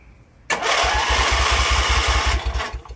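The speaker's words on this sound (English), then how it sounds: "right when the engine starts spinning" Hot rod tractor engine catches abruptly after a quiet moment and runs loud and close, with a rapid low throbbing firing rhythm that continues to the end.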